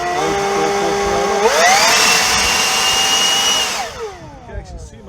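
A DeWalt 60-volt cordless leaf blower, model DCBL772X1, whirs with a steady electric whine that ramps up in pitch as speed is pushed higher, holds loud and close, then winds down near the end.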